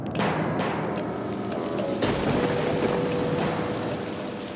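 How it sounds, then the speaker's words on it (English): Heavy rain falls on southern Niger at the end of May, a dense steady hiss of downpour with a few sharper impacts standing out near the start and middle. "At the end of the month of May, heavy rain falls on southern Niger."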